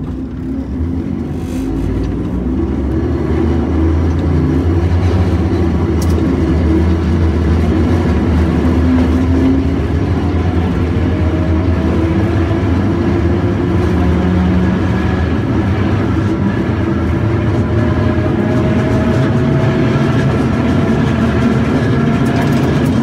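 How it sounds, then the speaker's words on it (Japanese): Chartered Mo161-class tram car 161 running on rails between Abikomichi and Tennoji-ekimae, giving a steady, loud, continuous rolling rumble with low wheel and motor drone throughout. "貸し切り電車でございます。"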